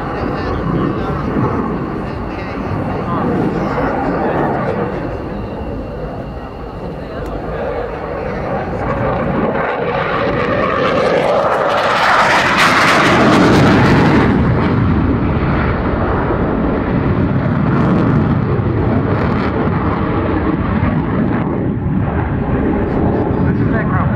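A Saab Gripen multi-role fighter jet from the Swedish Air Force performs at an air display, its engine roar loud and continuous, swelling as it passes close, with a commentator talking over it.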